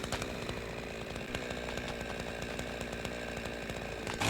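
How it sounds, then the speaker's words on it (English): A chainsaw cuts in the video game Goat Simulator 3, a loud, continuous buzzing whine with dense rapid chatter that holds steady throughout, with no talk. "So using the chainsaw will cause whatever you're cutting to become two smaller versions of that item."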